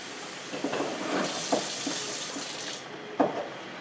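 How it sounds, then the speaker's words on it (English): Water poured from a tap into a pot of rhubarb to stew it, a soft running splash with a few brief clinks, fairly quiet and steady. "We'll put a little water in there, and we're going to actually stew this rhubarb."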